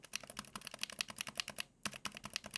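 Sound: mechanical keyboard keys with metallic stabilizer rattle

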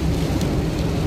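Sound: heavy rain

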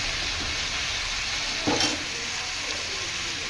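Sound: stirring mango curry frying in a pan

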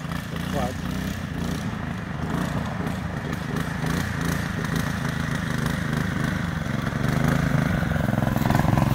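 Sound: motorcycle engine idling

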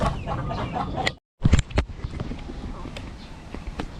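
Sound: rooster crowing

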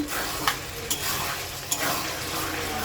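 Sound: frying chicken skin in oil

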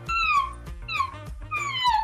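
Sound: person imitating a sad puppy noise

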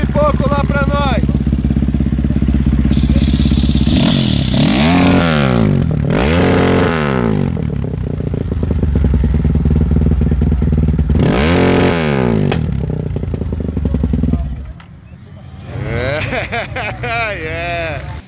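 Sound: 430cc methanol-fuelled racing motorcycle engine revving and backfiring

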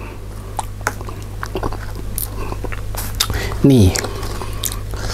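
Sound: eating and chewing Thai spicy salad with mackerel wraps

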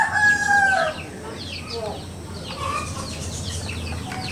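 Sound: roosters crowing early in the morning

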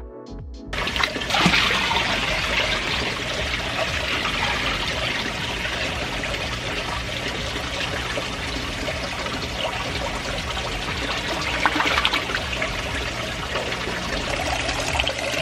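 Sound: water pouring while transferring an Oscar fish into a pond

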